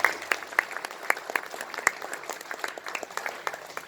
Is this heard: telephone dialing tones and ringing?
no